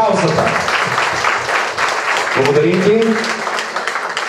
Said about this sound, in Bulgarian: Моля и за вашите аплодисменти, за нашия музикален водещ диджей Батата